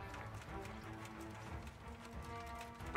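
Horse hooves clopping in Kingdom Come: Deliverance, a steady run of soft, fairly quiet hoofbeats over a continuous ambient bed, with no talking.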